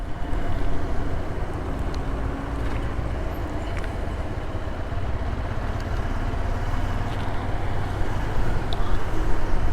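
A new Yamaha FZ15 motorcycle engine runs steadily with an abnormal noise, a continuous close mechanical drone with faint ticking on top, holding at an even level throughout.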